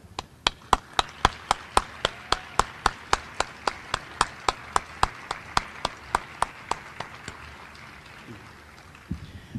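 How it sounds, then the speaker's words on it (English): Rhythmic clapping rings out at a university Veterans Day program as the crowd claps together in a steady, even beat for veterans, about twenty sharp, close claps that slowly fade. "You all deserve a round of applause."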